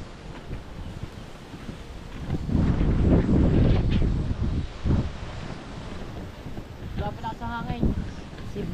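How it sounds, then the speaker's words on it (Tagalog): Strong wind buffets the microphone in heavy gusts, loudest in the middle, with a person speaking briefly near the end. "Grabe lakas ang hangin ah."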